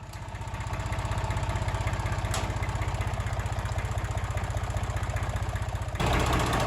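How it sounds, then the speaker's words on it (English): A Ford 1900 tractor engine runs after being rebuilt, a steady close, loud rhythmic diesel chug throughout, shifting to a slightly heavier tone near the end, with no talk. "here you can see some clips of the tractor running since I have reassembled the engine"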